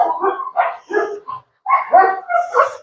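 A male puppy gives a run of short, close yips and barks in two bursts separated by a brief pause, loud and alone.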